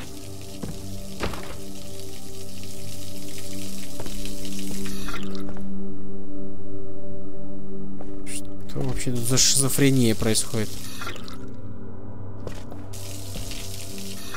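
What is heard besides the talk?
water running and dripping from an automatic tap in the video game Observer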